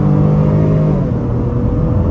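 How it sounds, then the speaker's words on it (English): A 2023 Honda Pilot Touring's V6 engine revs hard under acceleration, a loud, steady drone that climbs in pitch and then eases back as the next gear takes over, with no talking. "I like the way this V6 sounds"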